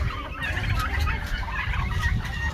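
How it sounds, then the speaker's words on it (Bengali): Chickens at a poultry farm beside a forest resort in Joypur, Bankura, cluck and squawk continuously in a dense, busy chorus of overlapping birds close by. "এগুলো হচ্ছে মুরগির ফার্ম সব"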